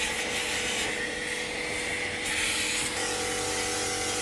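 A pressure washer jet blasts dirt off 4x4 mechanical parts, a loud continuous hissing roar that holds steady throughout, with no speech.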